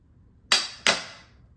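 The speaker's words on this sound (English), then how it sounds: "Hammer, hammer. Bang, bang," Two sharp, close bangs about a third of a second apart, like a hammer striking, each ringing out briefly in an otherwise quiet room.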